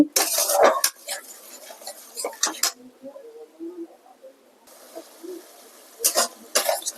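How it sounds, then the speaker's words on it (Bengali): Food stirred with salt and turmeric in a home kitchen pan, metal spoon clattering and scraping in bursts, with a quiet pause in the middle; someone talks between strokes. "নুন হলুদ দিয়ে ভালো করে নেড়ে নিচ্ছি"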